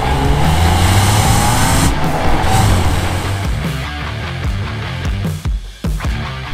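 A Peugeot 406 Coupe with a 3-litre V6 engine drives along, its steady engine drone and road rumble loud and continuous, with brief dips near the end as the car shifts or lifts off.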